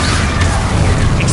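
The Confringo explosion spell goes off in a Hogwarts video game as a loud, dense, roaring burst that fills the whole moment with rumbling, crackling noise.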